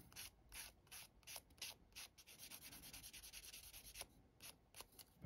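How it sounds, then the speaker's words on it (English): A small plastic track link from a Tamiya T55A model tank is sanded by hand with rapid back-and-forth rasping strokes, soft but steady and close. "And again, just going with the sander."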